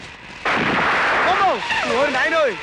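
A firecracker bomb goes off with a single sharp, loud blast that trails into a short rumbling decay, followed by voices talking close by.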